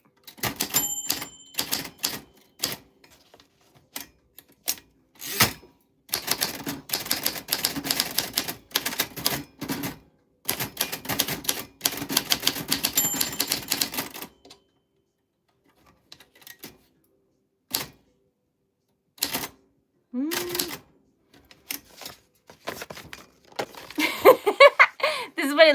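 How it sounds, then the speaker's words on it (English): Real typing on a manual typewriter: keys strike the page in bursts of rapid, loud, close clacks, broken by short pauses, with a few scattered keystrokes and a carriage or bell sound near the end. "And then this is what real typing sounds like."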